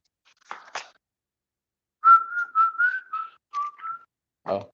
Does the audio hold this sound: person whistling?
yes